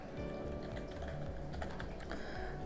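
Quick, steady keystrokes on a computer keyboard while text is entered in Photoshop, a soft close patter of clicks with a faint low hum underneath.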